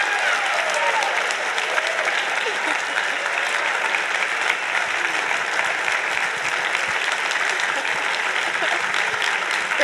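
Loud, sustained applause from a conference audience honoring a panel of speakers at a lobby day event, steady clapping throughout with crowd noise.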